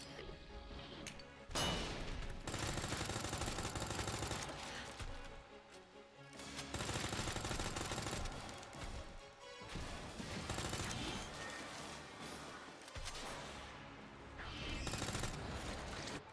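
Sustained gunfire from Resident Evil 2 on hardcore difficulty, played in dense bursts over a loud, continuous mix of game sound that lasts most of the stretch, with brief lulls between volleys.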